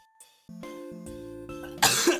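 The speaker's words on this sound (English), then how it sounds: "Oops, all coughing." Several sharp coughs in quick succession from one nearby person, ending in a louder, harsher burst with some throat clearing.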